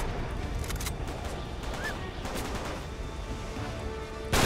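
Video game gunfire from Uncharted 3: Drake's Deception, a steady loud barrage of shots and explosive combat noise running the whole stretch, ending in a sharp louder burst.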